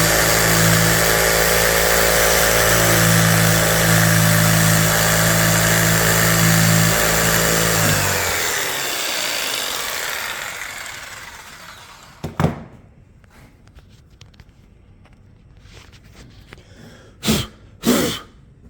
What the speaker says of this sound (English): Cutting out the notch for the electrical panel, all that wiring. See if I can do it one-handed. A little one-handed jigsaw action.